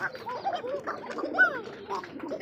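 Koka pigeons in a loft coo in several overlapping, throaty calls close by, with low murmuring from the flock beneath.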